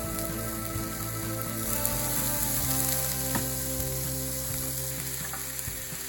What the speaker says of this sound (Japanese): 野菜のシャキシャキ感を残したいので、手早く炒めるようにしてください。